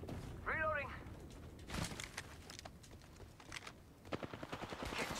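Apex Legends gunfire pops in bursts and rapid runs of shots under a game-sound whoop, fairly quiet overall and partly masked by other game noise.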